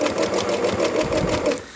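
A domestic sewing machine stitches elastic leg openings on a garment, a steady, fast, close mechanical whir with even rhythmic needle pulses running throughout and no talking.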